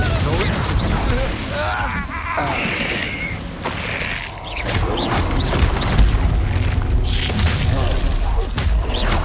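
Confringo fire-blast spells in the video game Hogwarts Legacy, heavy booming impacts and crashing debris in dense combat, with a voice and clattering effects throughout.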